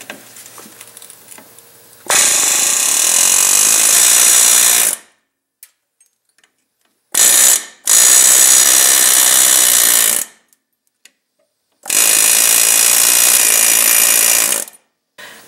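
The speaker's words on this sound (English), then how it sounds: "use the air chisel to cut the rivets again" Pneumatic air chisel cutting through factory ball joint rivets on a 2wd Dodge Dakota, loud rapid hammering in three long bursts and one short burst separated by silences.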